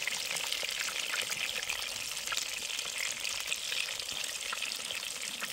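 Liquid bubbling and sizzling in a thin pan while pork cutlets fry in lard outdoors by the water, a steady close hiss with fine crackle and no talk.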